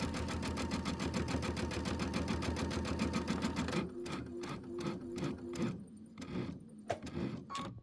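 A sewing machine with auto-lift and a foot control stitches a mini quilt from an embellishment kit. It runs at a fast, even rhythm close up, then stops and starts with separate single stitches and small mechanical clicks.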